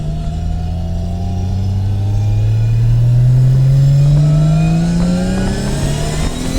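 A 750 hp Nissan R32 Skyline GT-R with straight pipes and a sequential gearbox revs loud and close, its engine pitch rising steadily through a long pull with brief dips at the shifts.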